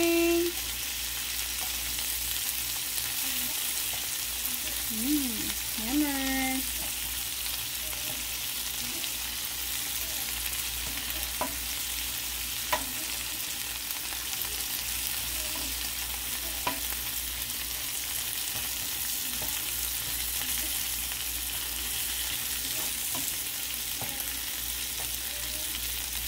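Shrimp and bean sprouts fry in a pan with a steady, close sizzle under repeated scraping stirs, and a few brief voiced sounds come early on.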